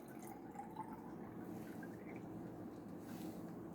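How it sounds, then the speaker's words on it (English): Water poured into a container in a classroom-style demonstration, a soft continuous trickle and splash that runs steadily and fairly quietly, close by, with no speech. "now here I am pouring that water"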